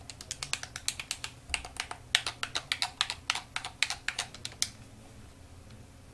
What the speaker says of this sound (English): So I hit enter on my keyboard